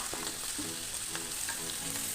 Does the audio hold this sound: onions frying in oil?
yes